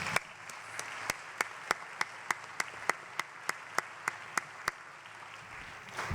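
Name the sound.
audience applause for the panelists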